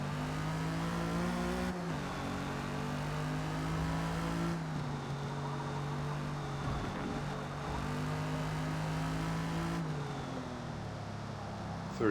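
A 1956 Jaguar D-Type race car in Forza Motorsport at Yas Marina, engine droning steadily at high revs, with gear shifts marked by brief dips and changes in pitch, no speech.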